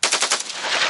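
AK-47 rifle firing a rapid burst of loud, sharp shots in quick succession, close by and with no voices, while the rounds strike a rock and ricochet.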